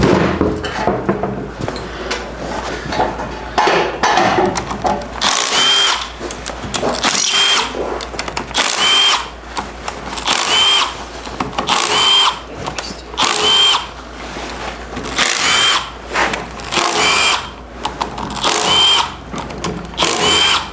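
A power tool removes bolts from a Suzuki Burgman 650 scooter in a series of loud, repeated whirring bursts about a second or two apart, each one stopping sharply, with no talking.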